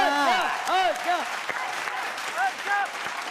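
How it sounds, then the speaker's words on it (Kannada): An audience claps together in a dense patter of applause, with bright high-pitched voices rising and falling above the clapping throughout. "ಎಲ್ಲರೂ ಚಪ್ಪಾಳೆ"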